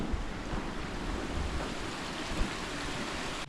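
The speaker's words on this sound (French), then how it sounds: "Deuxième cascade de la rando, ça y est." A waterfall on a hiking trail in Australia roars steadily, a constant broadband rush of falling water heard close and fairly loud, with no voices over it.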